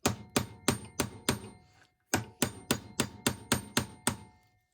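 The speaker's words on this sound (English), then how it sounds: "I like to use the brass hammer and an additional mallet." A brass hammer drives a front sight into the slide of a Canik pistol with sharp, ringing metallic blows. Five quick strikes come first, then a short pause and seven more in an even rhythm, loud and close.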